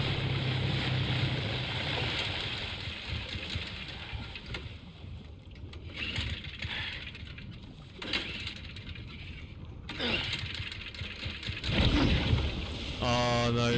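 Boat engine in the Resident Evil 4 Remake video game, a steady mechanical drone mixed with water and wind noise under game sounds, stuttering and fading as if the motor falters, with someone talking over it.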